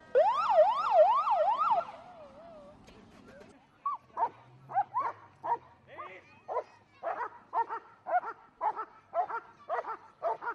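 A fire or police vehicle sounds a rising and falling siren wail for about two seconds during an emergency services demonstration at a children's event on a housing estate in Rožňava. A long series of short, evenly spaced barking yelps follows.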